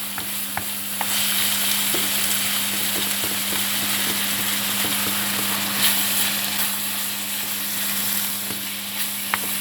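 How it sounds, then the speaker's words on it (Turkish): Onions sautéing in a pan on an electric stove, a steady close sizzle and crackle running without pause, with occasional scrapes and stirring clicks, over a constant low electrical hum. "İlk başta soğanı kavuruyorsunuz"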